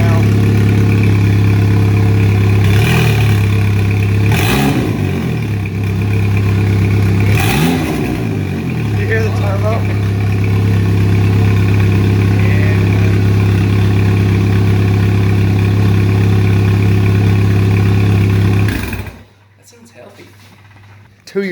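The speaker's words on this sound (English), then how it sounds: "It sounds really good. Hear the turbo?" A turbocharged 2004 Chevrolet Cavalier engine idles loudly on its first start, a steady low drone with a couple of rising revs before it cuts off near the end; a person speaks faintly over it.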